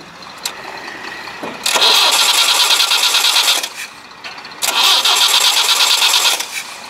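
A car engine, helped by a booster, is cranked twice, with two loud, close grinding bursts of the starter separated by a short pause and no clear catch into a steady idle.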